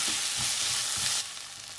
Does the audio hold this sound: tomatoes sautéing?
yes